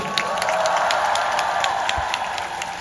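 A fan-meeting audience for DAY6 breaks into dense, continuous applause with cheering, a bright wash of clapping that fills the space and fades slightly near the end.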